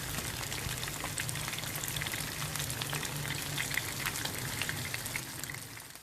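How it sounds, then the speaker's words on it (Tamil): Fish frying in a pan, a dense, even hiss and crackle of hot oil that carries on unbroken at moderate level, sounding almost like steady rain. "இதே போல் எல்லா பக்கமும் திருப்பி விட்டு நல்லா வேக வச்சு ஃப்ரை செஞ்சு எடுத்துடுங்க"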